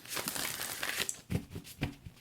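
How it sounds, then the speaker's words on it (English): Tarot cards shuffled on camera for a reading, a run of soft papery riffles and crinkles in close, irregular bursts with no talk. "I'm going to shuffle on camera as well"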